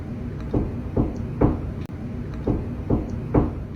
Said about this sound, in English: From the other side of her bedroom door came the unmistakable sound of knocking.